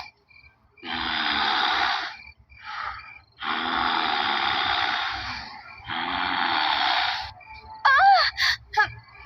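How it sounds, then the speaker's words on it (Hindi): Eerie, ghostly breathing in a horror tale: three long, loud, rasping breaths, each lasting a second or more and separated by short pauses, then a few short whistling, wailing squeals near the end, with no talk over them. "लेकिन वही सांस लेने की आवाज आने लगी।"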